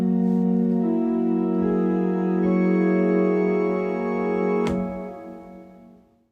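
Several keyboard notes struck together as a chord near the middle of the keyboard, ringing out in a sustained, steady tone that holds for several seconds before fading, with a brief click midway.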